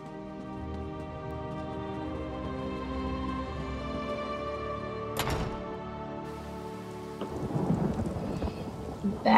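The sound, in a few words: rain and thunder in video game Elder Scrolls Online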